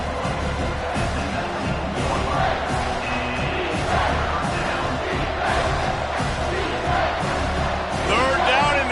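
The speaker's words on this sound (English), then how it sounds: "this crowd is tearing the lid off this place." A large stadium crowd roaring on third down at a football game, a dense, continuous wall of cheering and yelling that holds loud throughout, with a commentator talking over it.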